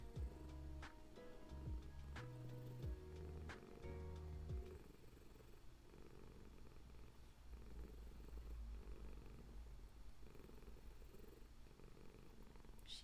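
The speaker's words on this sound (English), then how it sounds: "I kind of hope you guys can hear her purring because she is being very loud." A cat purrs loudly and steadily while resting on a person's lap, a close continuous rumbling under faint background music at the start.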